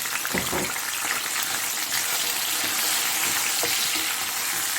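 Chopped tomatoes and masala fry in a pan for a karela sabzi, a dense, continuous sizzle with faint stirring scrapes close by.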